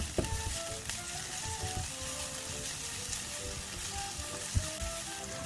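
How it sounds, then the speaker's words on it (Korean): Scallions and garlic stir-fry in a tablespoon of oil in a hot pan, giving a steady, crackling sizzle with occasional stirring clinks and knocks. "열오른 팬에 식용유 한 큰술 두르고 대파하고 마늘 넣어서 볶아줍니다"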